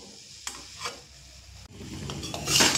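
Chicken filling for a stuffed snack stirred in a pan with chicken stock makes scraping strokes and light sizzling, a few sharp clacks of the utensil, and a louder burst of sizzle near the end. No one speaks.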